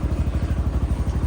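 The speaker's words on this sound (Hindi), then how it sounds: "बाइक बड़ी मुश्किल से स्टार्ट हुई है, हो गई स्टार्ट।" Motorcycle engine idling just after a hard start, a loud close, fast even putter that thumps steadily through the brief moment with no talking.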